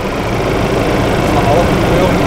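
A 2020 Ford Ranger Raptor with a twin-turbo engine gets revved, making a loud, close, broadband engine roar that holds steady and builds slightly toward the end, with no one speaking.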